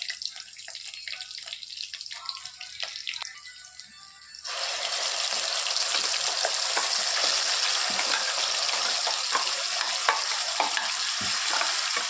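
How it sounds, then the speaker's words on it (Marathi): Cumin, green chillies and curry leaves go into hot oil for a dry green chickpea and potato dish. Quiet stirring comes first, then a loud, sustained sizzle and spatter suddenly takes over and continues to the end. No voices are heard. "जिरे दोन तीन मिरच्या कडीपत्ता आता टाकत आहोत"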